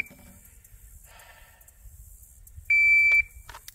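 A single sharp shot timer beep, loud and steady for about half a second, after a quiet stretch with faint rustling.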